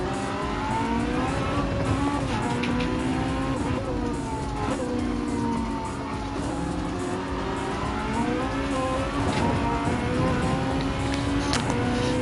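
On-board engine of a Porsche GT race car lapping Fuji Speedway in endurance qualifying, a loud continuous engine note rising and falling through gear changes and corners, with faint tyre scrub, no talk.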